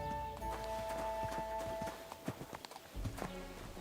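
A horse in the video game Kingdom Come Deliverance 2, hooves clip-clopping at a walk and breaking into uneven thuds, close and fairly loud against a steady tonal game backdrop.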